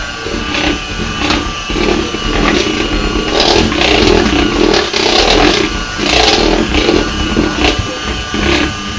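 An electric mixer beats flour into prune cake batter with a loud, close whirring grind that pulses unevenly as the beaters work through the mixture.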